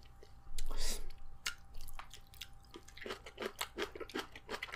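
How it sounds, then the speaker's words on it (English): Kimchi being chewed close to the mic, with wet crunchy bites and smacking in an irregular rhythm that thickens in the second half, over a low steady room hum. "So I might as well try this kimchi out."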